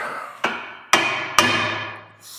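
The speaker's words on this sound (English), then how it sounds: "Soft hammer, we're going to push that down." Three sharp metallic taps from a brass soft hammer tapping down bearings, spaced about half a second apart, each ringing briefly before fading, close and clear with no talking.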